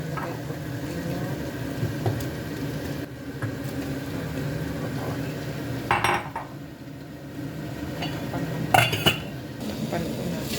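A spoon stirring food in a pot while dinner cooks, heard as quiet scraping with a few distinct metallic clinks against the pot over a low, steady kitchen background.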